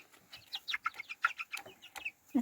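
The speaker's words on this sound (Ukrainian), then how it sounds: "Це півник." Chickens in a warm, roomy coop, a young rooster among several hens, give off a run of short, close clucks and chirps at a quick uneven rhythm, with one deeper call at the end.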